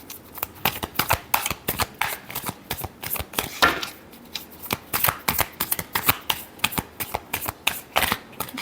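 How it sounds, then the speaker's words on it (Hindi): Tarot cards being shuffled by hand for a love reading, a steady run of close, crisp riffling flutters and soft slaps with one longer sweeping shuffle partway through, no talk. "last shuffle"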